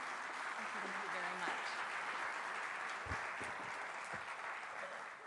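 Audience applause welcoming a speaker at an environmental quality agency's anniversary event: steady, moderately distant clapping from a crowd that holds throughout, with a few louder individual claps and faint voices underneath.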